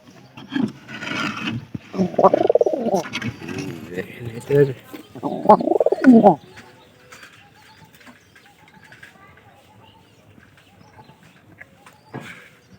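Pet pigeons coo at close range in a few throaty, rounded bursts, with quieter rustling and soft calls between them.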